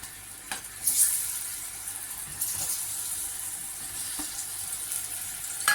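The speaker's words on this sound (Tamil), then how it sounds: "இந்த வாழைப்பழத்தை அப்படியே நம்ம ஃப்ரை பண்ணி எடுத்துக்கலாம்" Banana slices fry in ghee and honey for a Navaratri offering, giving a steady close sizzle with small bursts and crackles throughout.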